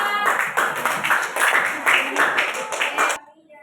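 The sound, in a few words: applause for a student group presentation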